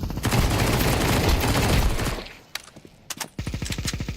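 A Counter-Strike 2 decoy grenade fakes gunfire. First comes a loud, dense stretch of rapid overlapping shots, then a short quieter gap with a few isolated bangs, then a fresh burst of quick, evenly spaced automatic-style shots.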